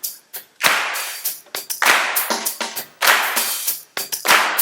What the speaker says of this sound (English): let's clap the backbeat